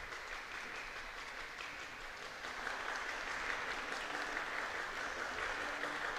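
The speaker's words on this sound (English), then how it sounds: "that's the Lady Bulldogs clapping over there really quickly" A girls' basketball team, the Lady Bulldogs, clapping together in a gym before the starting lineup of a game against the Lady Panthers; steady, fairly faint rapid clapping with a dense texture that grows slightly louder partway through.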